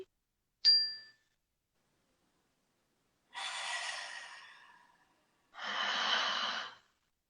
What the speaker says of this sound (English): take a nice deep breath, everybody.